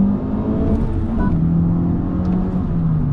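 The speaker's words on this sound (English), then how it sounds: "this car has it to where it can rev match for you" Honda Civic Type R FL5 with a manual gearbox revving steadily close by, a continuous engine drone with a brief rise in pitch around a downshift and no voices.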